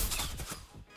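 A poison dart trap in Fortnite fires with a short burst of sharp, rapid popping shots, loud and close, fading within about a second.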